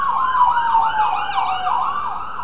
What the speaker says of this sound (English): we may be interrupted a couple times by ambulances